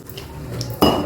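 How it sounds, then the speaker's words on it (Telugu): Spoon scraping and clinking against a pot while a little water is mixed into a poori curry base, with a sharper clatter near the end, close and fairly loud. "ఇప్పుడు ఇందులో కొంచెం నీళ్లు పోసి కలిపేసేయండి"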